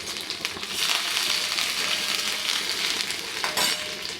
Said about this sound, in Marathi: छान गुलाबी परतून घ्यायच्या सर्व डाळी यात घालूया